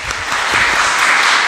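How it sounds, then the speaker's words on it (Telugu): Audience clapping at a Telugu Lenten church sermon, a dense, steady burst of applause that fills the short moment without any talk. "గట్టి చప్పట్లు కొడదాం."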